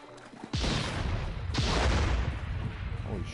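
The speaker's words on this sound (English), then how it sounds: "there's some fireworks going on here" Two loud booming blasts from fireworks in Assassin's Creed: Syndicate, about a second apart, followed by rumbling crackle that lingers.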